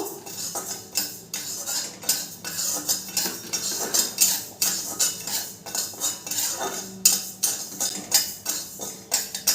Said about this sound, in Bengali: গোবিন্দভোগ চালটা একটু নেড়ে চেড়ে আমি ভেজে নেব।